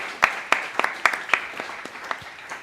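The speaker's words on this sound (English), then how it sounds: "Can we give a round of applause for Andrew real quick?" A small group claps for a young athlete during a pediatric shoulder and elbow exam, a brief sparse burst of distinct, separate claps that thin out and fade over a couple of seconds.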